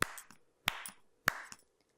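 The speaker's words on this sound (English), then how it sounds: "like a clap" Three separate sharp hand claps in a small room, each followed by a brief reverberant tail that dies away in under a second, spaced about half a second apart with quiet between them.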